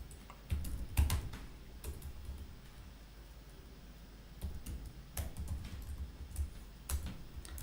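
Verilog code is typed on a computer keyboard in quick, irregular bursts of soft clicking keystrokes, quiet and close, with brief pauses between runs.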